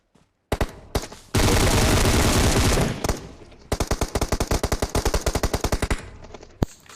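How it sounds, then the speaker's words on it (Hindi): Loud gunfire in PUBG Mobile: an opening pair of single shots, then a sustained automatic burst, followed by a rapid rhythmic string of separate shots and one final crack, all close and without speech. "पहले भाई 2 गोली सिंगल पे चलाते हैं।"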